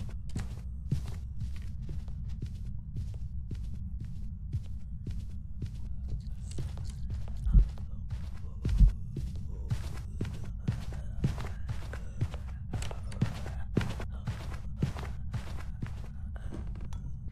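Ghost footsteps in Phasmophobia at normal hunt speed: a quick, even run of dull thuds, roughly two per second, over a constant low hum, with a couple of heavier knocks midway.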